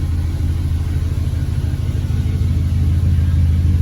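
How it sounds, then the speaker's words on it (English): An Audi B7 RS4 with a flap delete idles with a lumpy, uneven rumble, a loud steady low throb close by with no talking. "the bit of lumpy idle you're hearing, which again, there goes that second stage of high idle"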